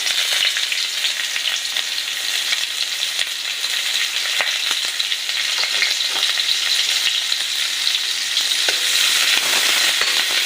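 Onions crackling and sizzling in hot oil in a wok, a loud continuous hiss close by with occasional stirring scrapes, no voices.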